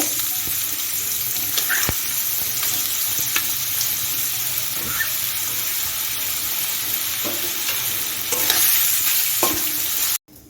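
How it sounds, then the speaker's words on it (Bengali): Cut potatoes fry in white oil in a wok, giving a loud, continuous sizzle with scattered clicks from stirring that runs until an abrupt stop at the end. "কড়াইতে আমি দু টেবিল চামচ সাদা তেল দিয়ে গরম করে নিয়েছি এখন আমি কেটে রাখা আলুটা ভেজে নেব"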